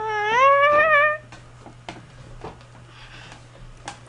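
A cat meow from the Roblox game Brick Bronze, one short wavering electronic cry followed by quiet game ticks and clicks.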